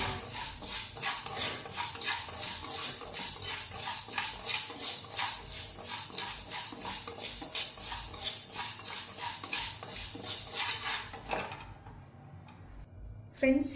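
Ragi porridge powder ingredients are dry-roasted without oil in a pan, with a utensil scraping and stirring in a steady, close, rhythmic pattern that stops abruptly near the end.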